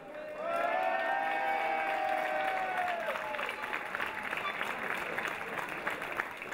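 Audience applause at a 2012 prize-giving ceremony for a women's sprint team, rising to a steady roar of clapping that holds through to the end, with a faint voice trailing off in the first seconds.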